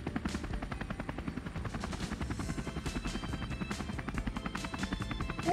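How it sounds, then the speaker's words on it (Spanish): A cartoon helicopter flies with a fast, steady rhythmic chopping of rotor blades, moderately loud and continuous throughout, with no speech. "¿Mi helicóptero puede subir?"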